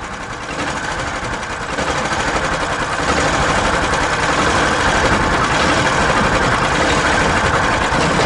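A vehicle engine runs with a loud, fast mechanical clatter that steps up in intensity over the first few seconds, then holds a steady, rattling chug up close.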